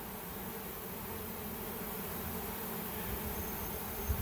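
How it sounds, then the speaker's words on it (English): Dense, steady buzzing of a honey bee swarm moving into a hive box, a continuous droning hum from many insects close by with no voices. "this swarm's trying to move into this box"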